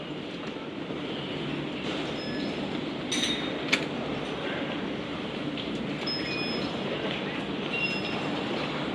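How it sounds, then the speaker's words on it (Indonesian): An airport rail train pulls out of a station on the line from KLIA toward central Kuala Lumpur, heard from inside as a steady rumbling roll with faint wheel squeals and a sharp click. "Keretanya udah jalan lagi nih, cuma berhenti 3 menit di sini."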